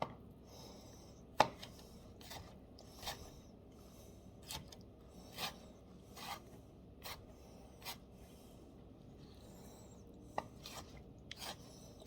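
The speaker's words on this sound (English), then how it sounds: "as I'm chopping it, I use the knife as an extension of myself" Knife chopping on a cutting board while making grilled cheese, with sharp separate taps spaced a second or so apart and soft rasping scrapes as the blade pushes food aside, close and fairly quiet.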